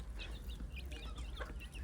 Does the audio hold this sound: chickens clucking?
yes